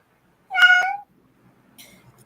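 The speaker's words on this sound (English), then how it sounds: "speaking of the cat. Lumos has spoken." A single pet cat gives one clear, close meow lasting about half a second, followed by faint quieter chirping and near silence.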